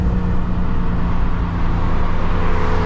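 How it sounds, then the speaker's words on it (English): A BMW car engine hums steadily at close range on a New York City highway, a constant low drone with a slight rise in revs, no talking. "The car sound good today, boy."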